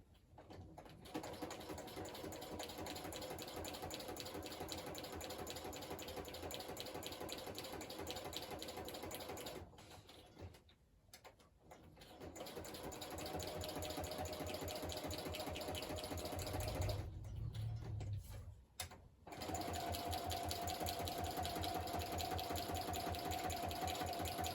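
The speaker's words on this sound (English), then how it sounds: "I'm going to run this through my sewing machine real quick" A sewing machine stitches through paper for a junk journal, a fast steady mechanical whirring and tapping that runs close and continuous, briefly pausing twice before resuming.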